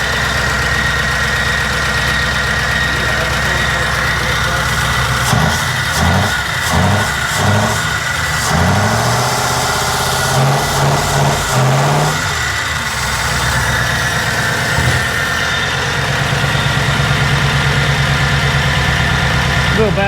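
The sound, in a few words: car engine running and revving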